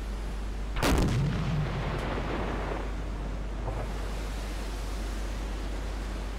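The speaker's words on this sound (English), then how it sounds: "I'm gonna try to finish her off with the big old deck gun." A submarine's deck gun fires a single loud blast in Silent Hunter 4, followed by a rumbling decay that fades into steady ocean and engine ambience, with no talking.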